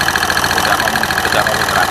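A motorcycle engine with a cheap, leaking oil seal runs loud and close, with a steady rapid mechanical clatter and a held, even throttle.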